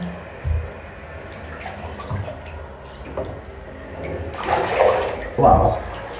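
Bath water splashes in a bathtub during a late-night bath, quiet at first, then a run of louder sloshing near the end with a few low thumps, and a voice at times.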